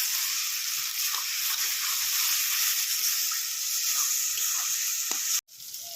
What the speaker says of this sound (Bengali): এই যে একটা টমেটো কাটা ছিল এটা দিয়ে দিলাম, দিয়ে আবার কষিয়ে নেব।